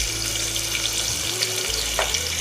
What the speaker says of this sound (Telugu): ఉల్లిపాయలు ఇలా వేగాక